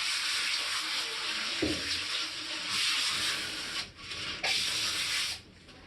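A tap runs in a steady hissing stream while something is rubbed and rinsed under it, the flow briefly interrupted twice before it eases off.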